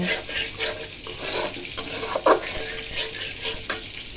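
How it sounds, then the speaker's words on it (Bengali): A spice paste is stirred and sautéed in a large wok, sizzling steadily with repeated scraping and clinking strokes of the spoon against the metal, fairly close and with no talk. "এখন ভালো করে নাড়াচাড়া দিব, মশলাটা কষাবো"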